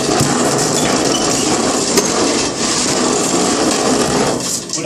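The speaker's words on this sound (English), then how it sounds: "I'm going to roll it through a few times" Steady, dense rubbing and rolling of a roller pressing vinyl onto a traffic sign, continuous and close up, with no voices.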